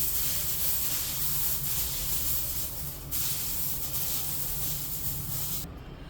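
Curry leaves sizzle loudly in a hot, dry pan for karvepaku podi, a bright continuous hiss close by that dips briefly midway and fades slightly at the end.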